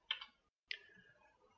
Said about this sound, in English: which I can just type at the keyboard